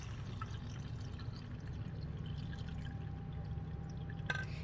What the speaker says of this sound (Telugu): ఒకసారి కడిగేసుకున్నాక సెకండ్ సారి కడిగింటాం కదా ఆ వాటర్ని ఇలా తీసుకుంటాను అన్నమాట